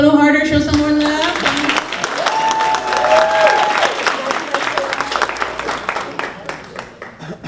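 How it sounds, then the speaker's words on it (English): A graduation audience claps for a construction-trade graduate at a ceremony hosted by NCCER and Lowe's, a steady dense patter of many hands that swells and continues for several seconds, with voices mixed in. "Can we clap a little harder, show some more love?"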